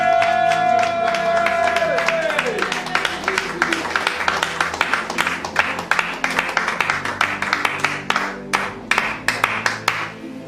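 A church congregation at a Bible convention applauds and cheers to welcome the pastor, a dense crowd of clapping that grows into sharp, rhythmic claps over sustained tones and voices, loud and close throughout.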